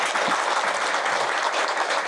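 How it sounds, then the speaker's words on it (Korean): Dense, loud applause from an audience at a temple sisterhood ceremony, steady and continuous for the whole stretch. "큰 박수로 환영해 주시기 바랍니다"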